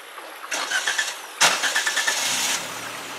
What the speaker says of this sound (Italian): Vai, rimetti in moto.